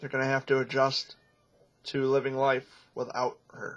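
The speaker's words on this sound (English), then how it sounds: "it's my cat trying to get out of the bedroom." A pet cat meows while trying to get out of a bedroom; the cries sit in the background beneath a person speaking close to the microphone.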